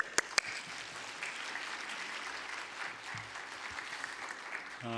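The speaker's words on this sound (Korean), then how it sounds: "큰 박수로 환영해 주시기 바랍니다" Congregation in a church afternoon service claps in a broad, sustained round of applause welcoming the pastor, steady and fairly distant, with a couple of sharp knocks near the start and a brief voice at the end.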